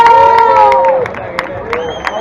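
Crowd claps and cheers at a 7K race prize ceremony in Meliana as the mayor goes on stage, loud and close, with whoops and shouting voices mixed into the applause.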